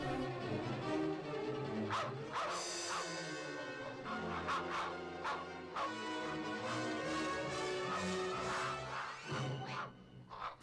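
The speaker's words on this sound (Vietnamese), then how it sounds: "Thả chó ra đuổi nó đi." Dogs bark and yip in a Russian animated fairy tale of Andersen's wild swans, repeated sharp barks over a busy music and effects bed.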